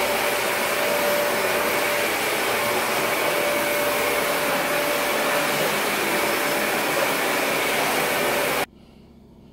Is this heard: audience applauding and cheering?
no